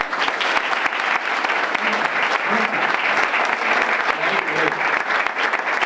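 Steady applause from the audience at a Partido Popular party headquarters opening in Canals, dense and continuous with faint voices and crowd murmur beneath, holding at an even level throughout.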